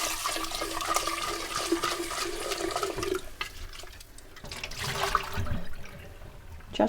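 Cold tap water runs and splashes while a jar is rinsed at a homestead kitchen sink, a steady rushing gush with shifting gurgles that fades and then surges again near the end.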